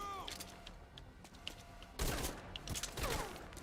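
Gunfire in the stealth video game Metal Gear Solid V: Ground Zeroes, with scattered shots early on and then a denser burst of rapid fire from the two-second mark, at moderate loudness.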